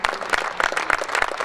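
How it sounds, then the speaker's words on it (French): Brief, moderately loud clapping from a group at a basketball cup semifinal draw ceremony in Dax, with an irregular rhythm of distinct hand claps. "on peut les applaudir"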